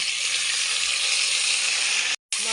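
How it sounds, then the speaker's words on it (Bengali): Chopped onions fry in hot oil in a pan, giving a loud, steady sizzle that runs without a break and then cuts out for a moment near the end. "ভিতর ছেড়ে দেব পেঁয়াজ কুচি। পেঁয়াজ ভাজা হয়ে গেলে এর ভিতর ছেড়ে দেব মশলা"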